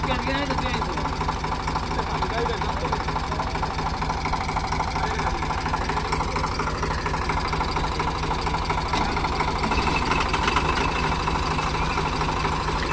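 A faulty tempo truck engine idles with a steady low rhythmic chugging and knock, close and continuous, while a person talks over it.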